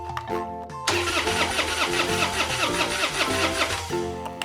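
A toy car engine sound cranks and tries to start with Peppa Pig toys, a steady loud mechanical whirring that kicks in abruptly after a short pause and runs continuously.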